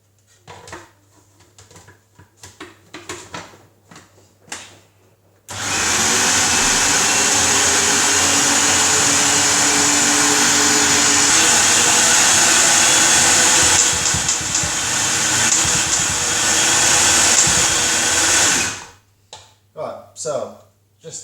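A food processor whirs loudly and steadily for about thirteen seconds while mincing meat for homemade meatballs, a dense close motor roar, with brief clicks and handling sounds before and after.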